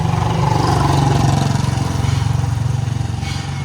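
A 2021 Sonalika tractor's diesel engine idles and runs at close range, a loud steady low throbbing chug that holds throughout without pause.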